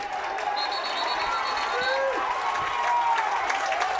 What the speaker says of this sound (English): And you hear already the Coatesville crowd very happy.